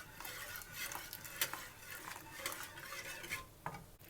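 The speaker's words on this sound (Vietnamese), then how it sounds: "Mình cho vào trong bột, mình vừa cho vô mình vừa khuấy nha." Boiling water stirred into rice flour batter for bánh bèo, soft sloshing and scraping strokes of a spoon around the bowl, quiet and close, with a few light knocks and no talk.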